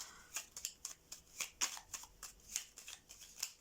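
Tarot cards shuffled and drawn by hand, giving a quick run of crisp papery flicks and riffles close up and fairly quiet, with no talking.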